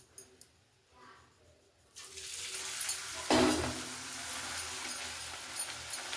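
Puri frying in hot oil, a steady broadband sizzle that swells after a quiet start and carries on continuously, close and moderately loud, with a brief burst of bubbling as the dough goes in.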